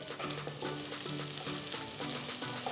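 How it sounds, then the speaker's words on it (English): Finely chopped fresh red chilies sizzle in hot oil with golden garlic slices for garlic egg fried rice, a soft, continuous crackle with faint background music. "once the garlic slices have turned to a nice golden color, adding 3 red chilies finely chopped"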